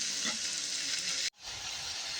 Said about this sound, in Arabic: شوحنا اللحمه بالمسكه بالحبهان بالجزر بالطماطم بالبصل